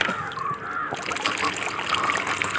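A small homemade waterfall fountain driven by a motor trickles and splashes continuously at close range, a bright steady stream of running water with no talk over it.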